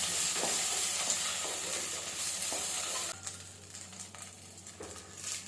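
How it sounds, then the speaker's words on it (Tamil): Eruvachi leaves sizzle and hiss softly in a hot pan as they are lightly sautéed and stirred, the frying sound fairly quiet and steady with a few scraping stirs, no voices. "இந்த இலையை லைட்டாக கொஞ்சமாக வதக்கிக்குவோம்."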